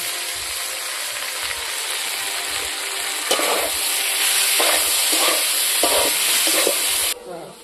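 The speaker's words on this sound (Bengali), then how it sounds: "মশলা ভাজা হয়ে গেছে, দেখুন বুঝতে ভাজা হচ্ছে" Steady, loud sizzling of spices, ground dried red chilli and potatoes frying in a pan, with a few soft scraping stirs near the end and no talking.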